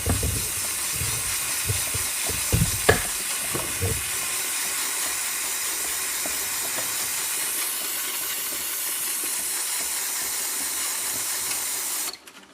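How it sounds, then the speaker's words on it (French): An aerosol spray can blasts cleaner onto a spinning motorcycle chain in a steady close hiss, with clicks and rattles of the turning chain early on before the spray carries on alone and cuts off. "Je vais faire encore un rinçage de la chaîne maintenant en utilisant strictement que la bombe."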